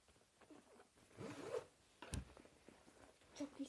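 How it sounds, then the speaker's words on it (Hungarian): A small zipper on the back of a floral school bag is pulled open and shut in a few quick, close rasping strokes, quiet and alone. "Itt a hátulján van egy kis cipzár"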